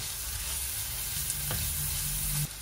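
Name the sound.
ginger, onion and garlic frying in pan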